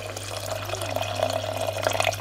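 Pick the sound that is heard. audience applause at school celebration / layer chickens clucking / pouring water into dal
pouring water into dal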